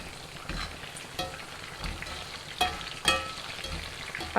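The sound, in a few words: prawns deep frying in oil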